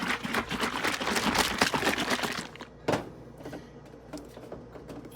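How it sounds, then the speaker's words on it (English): A bottle of coffee creamer shaken hard, giving a dense, rapid rattling and sloshing for about two and a half seconds, then a single sharp knock and quiet handling noises. "we're going to give it a good shake."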